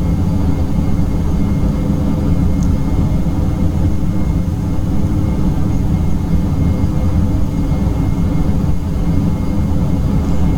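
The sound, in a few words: Dash 8 Q400 turboprop on approach, landing gear lowered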